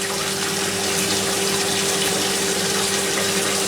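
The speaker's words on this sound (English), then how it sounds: "so I'm running some water, put some hot water in there" Hot water runs steadily from a kitchen tap into a sink or container for washing up, a continuous close hiss and splash with a faint hum throughout.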